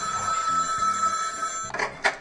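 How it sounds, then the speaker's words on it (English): A telephone bell rings loudly and steadily in a comedic pizzeria phone-order scene, a sustained electronic trill lasting a couple of seconds before a short clatter as it ends. "Answer the phone, Donald."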